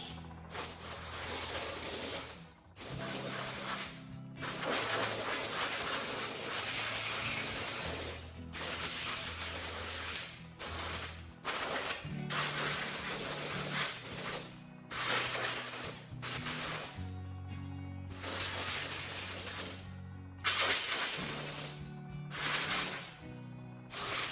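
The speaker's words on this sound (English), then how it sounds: "Again, take my empty airbrush." An empty airbrush sprays bare air in a series of sharp hissing bursts of varying length, separated by brief silent gaps, close and fairly loud.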